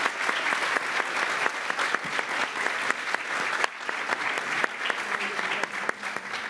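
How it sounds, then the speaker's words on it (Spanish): Audience applause at a ceremony opening a school in Engativá, Bogotá: a sustained, dense wash of many hands clapping that stays steady and fairly loud throughout. "aquí el aplauso es para todos ustedes"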